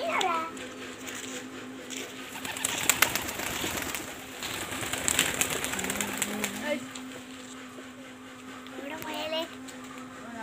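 Pet pigeons kept at a home in Malappuram, alongside chickens and rabbits, coo softly in the background while adults and someone talk nearby.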